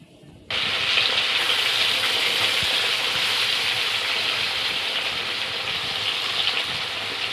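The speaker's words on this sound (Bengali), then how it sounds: "মাছগুলো ভেজে নেব।" Turmeric- and salt-rubbed parshe fish sizzle in hot oil in a wok, a sudden loud hiss that starts after a brief quiet moment and holds steady and close throughout.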